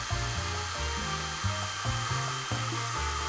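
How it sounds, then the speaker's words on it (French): A hair dryer blows warm air over poured epoxy resin waves in a sea-themed painting, a steady close whoosh running the whole time beneath louder background music. "Maintenant, prends le sèche-cheveux et commence à souffler doucement sur les vagues que nous avons dessinées."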